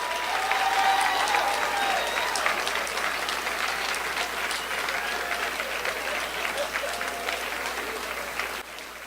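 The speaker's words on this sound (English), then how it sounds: "You can clap, you can clap." Crowd at a teacher of the year celebration applauds honorees receiving $500 checks, a dense, continuous roar of clapping that holds steady and tapers slightly near the end, with faint voices mixed in.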